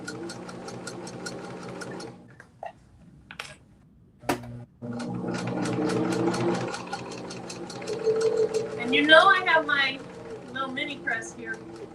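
A sewing machine stitching a patchwork pillow cover at a 2.5 stitch length, running in steady rhythmic bursts with short pauses, while a person talks over it.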